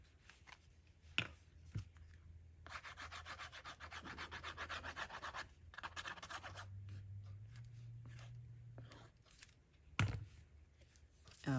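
Paper card panels for a handmade hexagon patchwork card being trimmed, soft close rubbing and slicing strokes with small taps, faint and steady at a quiet desk.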